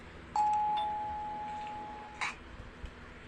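A home doorbell rings once with a clear sustained electronic chime, followed by a second short tone and faint room noise.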